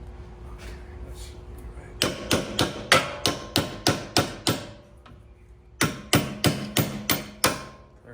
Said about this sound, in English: while also tapping on the head of the bolt so that we can help it find its way